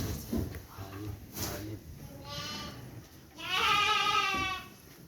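A sheep on a farm gives two drawn-out, wavering bleats, the second louder and longer, with people talking quietly nearby.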